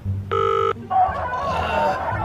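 A phone ringing over speakerphone gives one short, steady electronic ring tone that sounds alone, then stops and gives way to voices talking.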